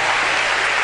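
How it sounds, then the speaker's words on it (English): Audience at a Ugandan church revival clapping hands together, a dense, steady wash of applause that fills the whole moment with no break. "Why don't you clap your hands?"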